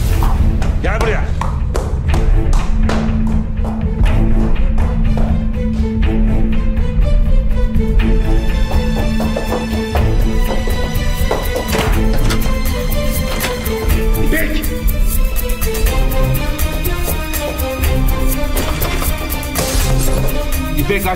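Heavy fists bang repeatedly on a locked door, dull thuds landing under a loud, continuous music score, with voices speaking over the pounding.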